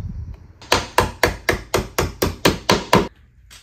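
Hammer strikes land nine times in a steady rhythm while a DIY closet is being built, each blow loud, sharp and close, with a brief quiet lead-in and a clean stop at the end.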